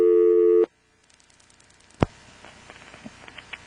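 An NX1-E telephone switch from 1977 Carolina Telephone territory in Vanceboro, NC: a steady busy-type tone stops abruptly, then faint clicks, a sharp pop and a run of soft ticking switch noises before the call cuts through.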